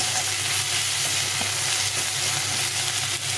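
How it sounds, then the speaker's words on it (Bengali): Onion and tomato with a pinch of salt sizzle steadily in a pan while frying for a duck egg curry. The close, continuous crackle holds even with no pauses, and nobody speaks. "পেঁয়াজ আর টমেটোটা ভাজা হয়ে গেছে, সুন্দরভাবে ভাজা হয়ে গেছে।"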